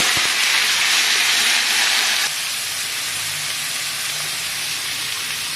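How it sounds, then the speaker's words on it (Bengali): Sliced potato and onion hit hot oil with a loud, steady sizzle and hiss that drops abruptly to a quieter, continuous frying crackle, close up with no talking. "তেল গরম হয়ে গেছে। এই তেলে এই যে আলু পেঁয়াজটা ছেড়ে দিচ্ছি"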